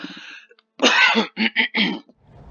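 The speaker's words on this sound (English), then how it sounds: "Excuse me, I just need to cough." A close, loud cough followed by a few harsh throat-clearing bursts, then quiet rustling.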